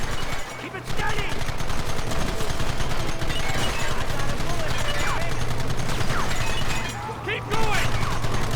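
Sustained rapid gunfire fills a Red Dead video game shootout, dense loud bursts overlapping continuously, with a low engine-like hum beneath and shouting voices mixed in.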